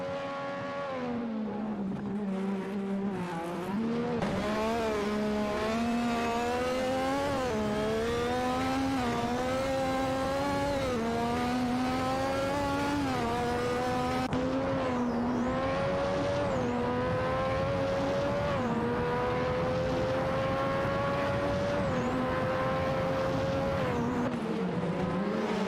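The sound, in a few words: race cars accelerating in an AI racing video game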